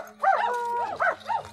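A dog barks in a few quick, yelping bursts, close and clear against a quiet, low hum in a Tamil television serial scene.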